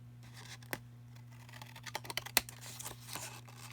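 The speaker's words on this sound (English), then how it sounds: "I just grab my scissors and I can do it just as well that way." Scissors snip through card paper for a quilt-themed greeting card, giving a few faint, scattered crisp cuts and rustles at close range in a quiet room with a low background hum.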